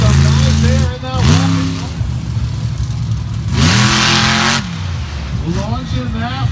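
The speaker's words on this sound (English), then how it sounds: "Launching that monster truck." A monster truck engine revs hard as the truck launches at an outdoor monster truck show in Tappahannock, Virginia, loud rising roars swelling and falling over crowd noise and an announcer talking.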